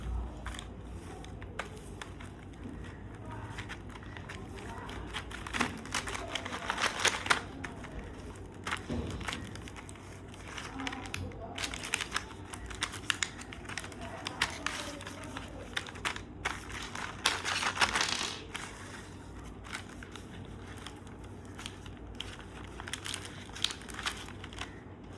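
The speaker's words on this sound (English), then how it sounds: "So first let's unbox this science kit." Packaging for a mini science kit crinkles and crackles in irregular bursts as it is handled and opened close up, with quiet gaps between rustles and no talking.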